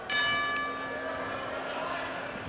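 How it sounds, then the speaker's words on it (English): A ring bell is struck to start a tag-team wrestling match, a bright metallic clang with long ringing overtones that decays slowly beneath arena crowd noise. "Ring the bell."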